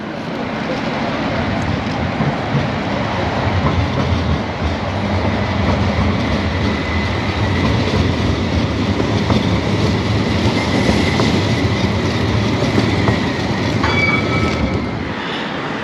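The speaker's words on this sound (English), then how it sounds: "here's one of these trams that are free of charge" A free city tram in Luxembourg passes close by with a loud, sustained rumble and rail hum, swelling through the middle and easing off near the end.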